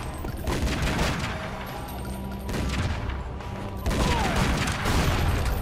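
Sustained gunfire in the Tomb Raider: Legend train pursuit, a dense continuous fusillade of rapid shots with booms, loud and steady throughout with brief shifts in intensity.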